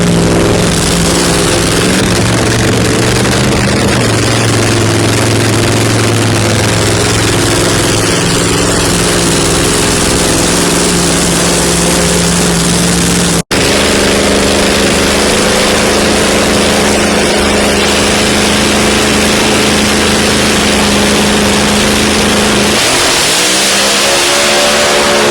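A ProMod drag racing car engine idles high at a motorsports park, a loud steady lumpy drone that holds for most of the stretch, then drops and fades near the end, with no talk over it.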